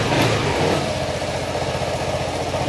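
An engine with a failing fuel pump catches after its fuel tank is tapped, then runs close and loud with a steady throbbing beat and slight revving throughout.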